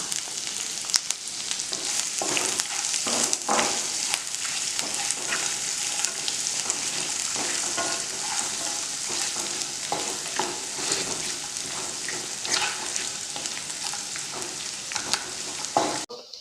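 Steady sizzling of onion, ginger and garlic sautéing in a hot pan, with occasional stirring scrapes, continuous throughout with no talking.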